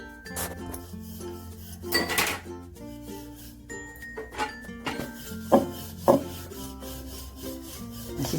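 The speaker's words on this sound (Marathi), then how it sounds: "छान लाटून घ्यायचे कडेने पण छान व्यवस्थित लाटायचे" Gul poli dough being rolled out with a rolling pin, repeated close wooden rubbing and knocking strokes in an irregular rhythm over faint background music.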